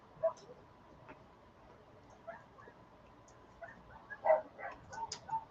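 Dogs yip and bark in scattered bursts, faint and somewhat distant, growing busier toward the end, with no talking over them.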